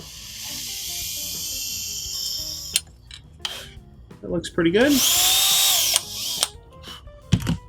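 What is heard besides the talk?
power drill drilling holes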